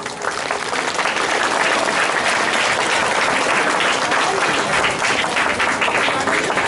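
An audience claps loudly and continuously after a speaker is introduced, a dense steady roar of hands that sustains at full strength throughout.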